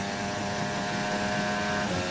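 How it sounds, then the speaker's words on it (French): Lewis Hamilton's Mercedes Formula 1 car in qualifying at the 2023 Spanish Grand Prix holds a loud, steady, high-pitched engine whine at full throttle, sustained without a break. "ça a bien passé, écoutez le moteur."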